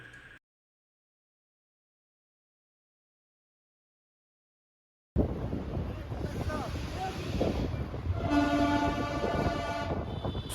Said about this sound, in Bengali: শিলিগুড়ি ঢোকার ঠিক আগের মুহূর্তে চোখে পড়ল এই 2 কামরার টয় ট্রেনটি